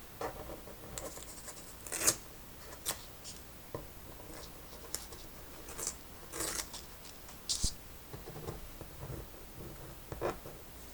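Scattered short snips and crisp cutting clicks of scissors trimming something, spaced irregularly over quiet room tone with faint rustling between cuts.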